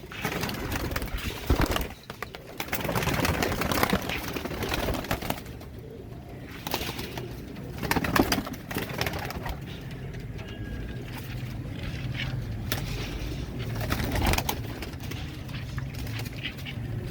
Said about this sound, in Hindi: ये अली वाले कबूतर हैं सबके साथ।